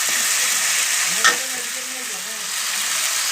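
Chicken masala sizzling and frying in a pan, with a brief clink of the spoon as it is stirred partway through; a steady hiss of oil carries throughout with no voices.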